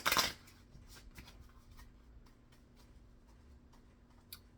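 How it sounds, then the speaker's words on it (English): A brief burst of tarot cards being shuffled, then quiet scattered ticks and soft card handling against a faint steady hum. "now I needed to shuffle that one more time"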